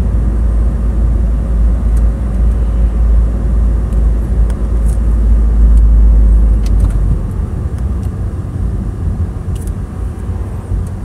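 Volkswagen Touran engine and turbo while driving, a steady loud low rumble with road noise throughout, easing slightly toward the end.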